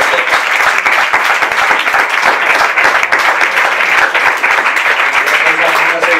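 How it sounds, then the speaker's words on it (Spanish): A lecture audience applauds steadily at a talk on María Zambrano, the dense clapping holding loud and even throughout, with no voices above it. "Entonces yo pido un aplauso."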